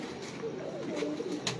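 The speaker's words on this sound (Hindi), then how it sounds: "ये इतना सा कबूतर है" A small pigeon in a fancier's loft coos in a soft, low, rolling call, heard close and alone over a faint background hiss.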